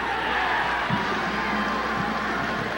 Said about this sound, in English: Tiger crowd really getting into it.